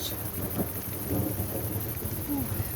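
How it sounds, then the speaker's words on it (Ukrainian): Low rolling thunder rumbles beneath steady rain, with a constant high chirring of insects over the wet, continuous wash. "Грім."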